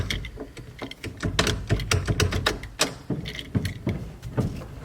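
A Mopar ignition switch lock mechanism turns with a series of quick, light mechanical clicks and ratchets, close up and fairly smooth, with no voices.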